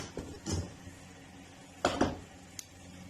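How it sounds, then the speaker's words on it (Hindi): A pressure cooker lid is opened after cooking chicken yakhni, giving a few separated metallic clanks and knocks, two sharp ones close together midway and a brief light tap near the end, over a quiet kitchen background. "कुकर खोलते हैं।"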